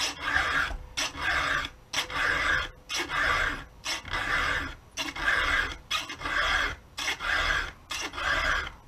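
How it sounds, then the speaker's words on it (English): A hand file rasps across a chainsaw chain in steady back-and-forth strokes, about fourteen close, loud gritty scrapes in an even rhythm with brief gaps between them. "You learn how to file a power saw doing firewood."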